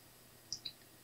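A computer mouse gives two quick, close clicks in a double click during software installation, sharp and small against a quiet background.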